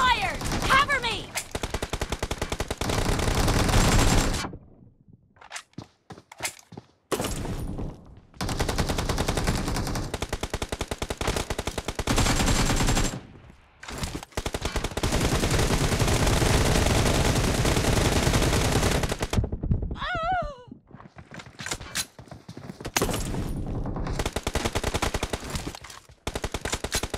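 Rapid automatic gunfire in the mobile game PUBG rattles in long, loud bursts separated by brief silent gaps, with short in-game voice callouts in between.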